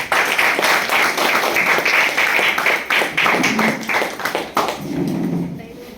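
Audience clapping at an award ceremony honouring writing on Vivekananda, a loud, close burst of many hands with distinct sharp taps, tapering off near the end as other sounds take over.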